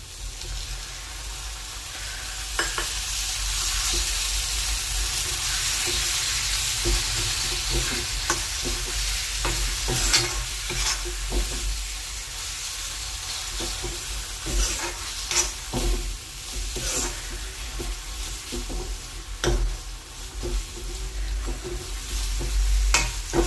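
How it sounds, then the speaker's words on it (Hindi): Hot masala frying in a pan as homemade paneer is added and stirred in, a strong continuous sizzle and hiss with frequent spatula scrapes and knocks, close and busy, no talking. "मसाला अच्छे से भुन चुका है और अब मैं इसमें डाल रही हूँ पनीर"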